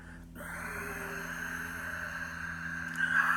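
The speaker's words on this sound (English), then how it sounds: "Soft, silky, whistling Ujjayi breath, victorious breath in Sanskrit." Ujjayi breathing exhaled through the nose with the mouth shut, a soft, steady, breathy hiss with a faint whistling edge that stays even for a few seconds, close up and alone.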